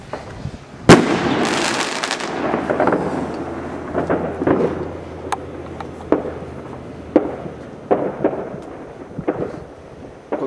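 A loud firework bang followed by a string of crackling pops and distant booms, with wind buffeting the microphone.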